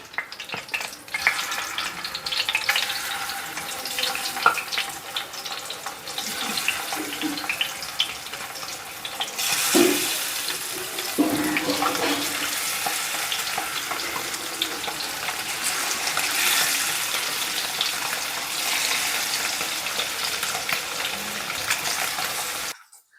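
Egg pieces for egg 65 drop one by one into hot oil and fry with a continuous loud sizzle and crackle, building in intensity and running steadily without a break.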